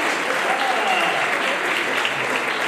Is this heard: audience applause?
yes